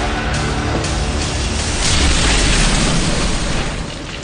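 A loud, sustained explosion roar from a Turkish TV drama trailer fills the clip, a dense rumbling blast that swells around the midpoint and tapers slightly at the end, with no speech over it.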